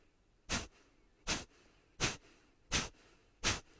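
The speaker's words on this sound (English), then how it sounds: "exhale quickly from the nose." Five sharp, forceful exhales through the nose, spaced evenly under a second apart, each a short breathy burst of air during a rapid yoga breathing exercise, close and clear against a quiet room.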